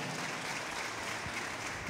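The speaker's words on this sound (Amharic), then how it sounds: "አጨብጭቡ ለአብርሃም" A church congregation claps together in sustained, steady applause, a dense even patter heard from within the hall at moderate loudness, with no talk over it.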